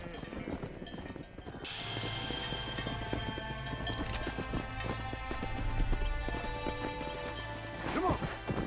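Horse hooves clip-clop at a steady gallop in Red Dead Redemption, a continuous rhythmic pounding under a low hum of game ambience, with a brief whinny-like burst near the end.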